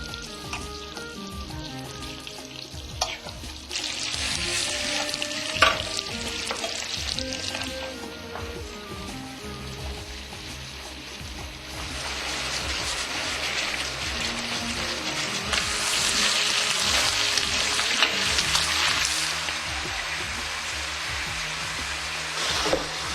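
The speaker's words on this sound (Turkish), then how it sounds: "Et kısmında da öncelikle etin iki tarafı tereyağında kızartılıyor." Meat sizzling in butter in a pan, a steady broadband crackle with brief louder spits, heard close and alone throughout, part of a traditional Çorum dish cooked in deep copper pots.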